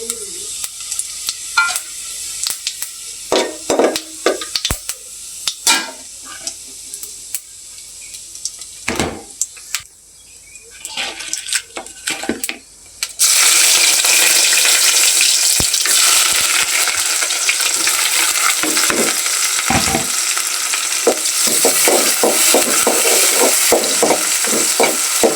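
Cumin seeds dropped into hot oil in a pot: after a stretch of quiet clinks and stirring, a loud, dense sizzle bursts in and holds steady, close up, with occasional stirring scrapes and taps over the frying hiss.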